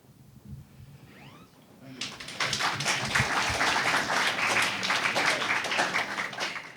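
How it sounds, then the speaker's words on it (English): Audience applause at a 2024 impromptu speaking competition semifinal: faint sounds at first, then a burst of dense, steady clapping that stays loud and even to the end. "Give them a round of applause"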